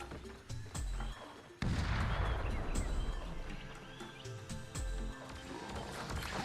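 A grenade detonates in the Original Xbox shooter Brute Force, a sudden heavy blast that rolls into a long rumbling tail amid scattered in-game gunfire and impacts, with game sounds continuing after the boom.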